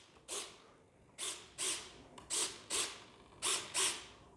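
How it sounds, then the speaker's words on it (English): The flaps on a Dynam B-26 Marauder 1.5 m RC plane deploy with six or seven short whirring servo bursts in an uneven rhythm, close and clear, with no talking. "Oh, the flaps are deployed."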